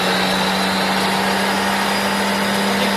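A Nissan Skyline R33 engine idles on a dyno, giving a steady, continuous drone with a constant low hum and broadband mechanical noise, close and loud throughout with no talking.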